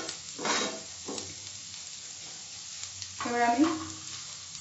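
Mushroom pepper fry ingredients sautéing and being stirred in a pan, a steady sizzle with scraping stirs, briefly under a short spoken phrase before a louder burst of frying.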